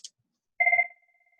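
A telephone rings once in a short electronic two-tone burst that trails off quickly, preceded by a tiny click, with silence otherwise and no talking.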